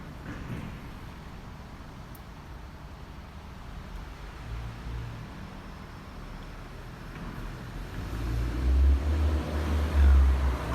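Steady low rumble of cars moving through a busy apartment-complex parking structure, a continuous echoing drone that swells louder toward the end as a vehicle passes close.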